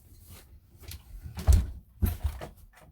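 A house door opens or closes with a few dull low thumps and knocks around the middle, fairly close, with no talking over it.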